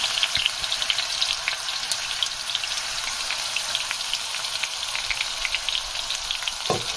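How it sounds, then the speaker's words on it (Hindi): Two medium chopped onions frying in hot oil in a kadai, a loud, steady, close sizzle with crackling spits running unbroken throughout, no voices. "ऑयल हमारा गर्म हो चुका है तो इस पे मैंने 2 मीडियम साइज की चॉप प्याज डाल रही हूँ"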